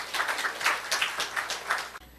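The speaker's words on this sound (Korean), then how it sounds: "우리 하나님께 박수 올려드려요." A church congregation applauds together, a soft, steady patter of many clapping hands that lasts about two seconds and then stops abruptly.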